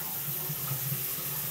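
Shower water runs steadily in a bathroom, a continuous broadband hiss and splash with no pauses, close and fairly loud throughout.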